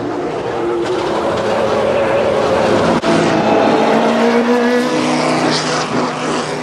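Small racing car in a sim game, engine droning loud and steady with rising pitch and a quick shift, tire rumble beneath and no voices.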